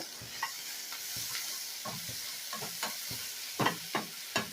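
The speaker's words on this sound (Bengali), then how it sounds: "আবারও মিনিট খানেকের মতন ভালো করে কষিয়ে নেবো" A lachha mixture is stir-fried in a pan while cooking lachha halwa, with a quiet steady sizzle broken by repeated scraping strokes of a spatula against the pan, close and alone.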